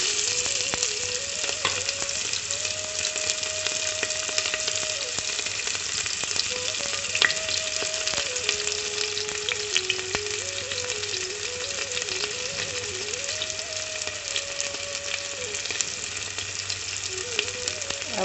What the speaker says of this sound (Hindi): यहाँ पे कर रही हूँ मैं तड़के की तैयारी। तो अब मैंने इसमें डाल दिया है प्याज और जीरा।